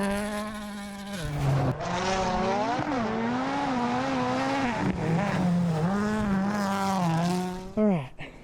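Custom Traxxas Rally VXL RC car on a snow course, its electric motor whining loudly and continuously with rising and falling pitch as it accelerates and turns, close by.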